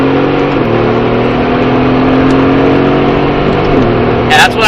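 A car engine drones steadily on a racetrack at Speed Vegas, holding a loud mid-pitched tone with slight pitch shifts as it pulls, while a voice talks over it.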